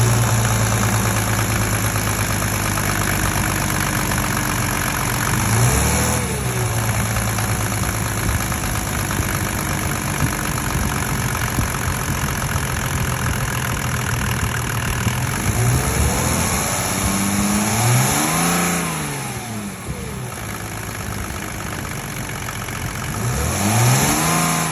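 Diesel engine idling steadily, then revved to about 2,000 RPM with a rising and falling swell, repeated near the end; a close, continuous mechanical drone with no talk.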